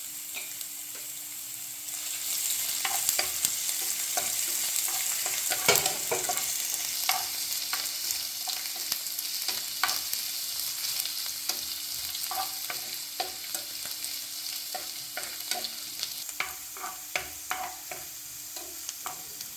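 Garlic and ginger sizzle steadily in hot oil in a pan for a gooseberry pickle, with frequent scraping stirs and light spatters over a continuous fry, with no talking.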